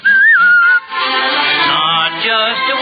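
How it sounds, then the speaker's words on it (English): A single person whistles a short, clear, wavering melodic phrase up close, cut off after under a second by a dense stretch of orchestral music from an old Christmas radio broadcast of Pinocchio. "Not just a whistle squeak, pucker up and blow."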